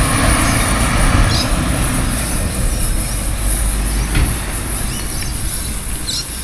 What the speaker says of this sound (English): there's a truck going past